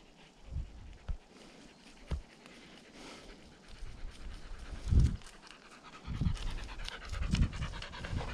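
A hunting dog pants hard and rapidly close by during a deer hunt with dogs, breathy rhythmic puffs with occasional louder bursts and some shuffling movement.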